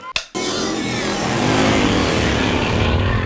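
Custom motorcycles start up together after a brief click, then settle into a loud, steady, dense engine roar with revving that holds close and continuous.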